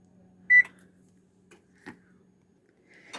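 A kitchen oven beeps while being set to preheat to 400 degrees: one short, clear electronic beep followed by a few faint button clicks in a quiet room.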